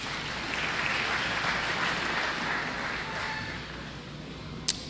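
Church congregation applauding, a steady, moderately distant wash of clapping that runs for several seconds and then tapers slightly, with one sharp click near the end.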